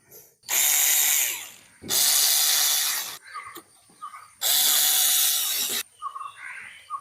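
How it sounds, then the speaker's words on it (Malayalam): Electric screwdriver driving screws into the new coupler of a Sujata mixer grinder, three loud sustained whirring bursts separated by short clicks and handling taps, no talking. "ഇനി നമുക്ക് സ്ക്രൂ ചെയ്യാം"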